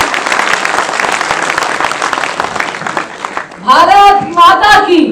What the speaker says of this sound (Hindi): हमारी दोनों बहनों का जोरदार ताली बजाकर स्वागत होना चाहिए